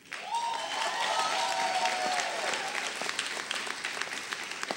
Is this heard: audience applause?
yes